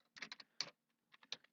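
Close, quiet typing on a computer keyboard while entering numbers into an Excel spreadsheet, two quick clusters of sharp key clicks separated by a short pause.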